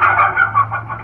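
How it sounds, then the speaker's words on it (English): Chicken call from a Little Big Horn 25-watt digital game caller, heard as a loud, close run of electronic clucking in quick uneven pulses with a steady low hum underneath, with no voices. "Chickens."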